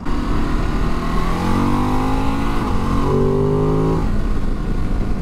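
A Ducati DesertX V-twin motorcycle roars past in a loud flyby, its engine note climbing and falling through gear changes as it sweeps by close and steady.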